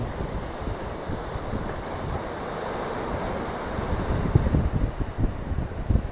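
Ocean waves break steadily on the shore at Ericeira, Portugal, a continuous rolling wash with wind noise that swells slightly louder toward the end, with no voices.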